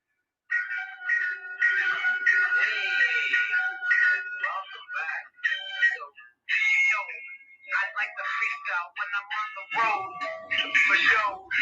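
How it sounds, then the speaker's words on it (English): A rap track plays from a phone speaker, thin and tinny, with a voice rapping in a steady cadence over a bright beat that starts after a short silence and continues with brief pauses. "I'll play you a little rap song on my phone here while I wait."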